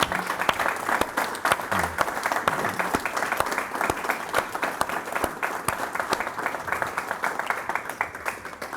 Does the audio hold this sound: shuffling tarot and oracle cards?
no